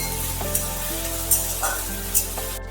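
Potatoes frying in a pan for a chicken keema and chickpea chana masala, a steady close sizzle with a constant hum underneath and a few light stirring clicks.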